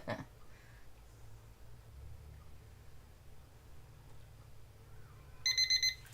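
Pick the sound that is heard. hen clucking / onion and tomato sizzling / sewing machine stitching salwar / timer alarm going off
timer alarm going off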